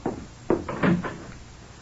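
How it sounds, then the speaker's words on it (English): A door opens in a quiet room in an old-time radio crime drama, a few soft knocking thumps and a creaky rustle, then silence. "leave the door open, Lou."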